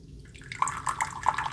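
A drink is poured into a glass up close, with a steady liquid trickle and bright bubbly plinks that grow busier as the glass fills.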